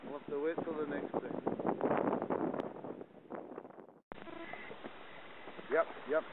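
Strong outdoor wind buffets and roars across the microphone throughout, loud and continuous, cutting out briefly before resuming while people talk over it.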